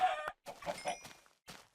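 A chicken in Minecraft clucks several times in short, choppy bursts with small gaps between them, fairly faint and with nothing else around it.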